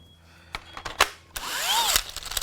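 A DeWalt 18V cordless drill runs weakly and low on power, with a strained whir that rises and falls, mixed with clicks and handling knocks close by.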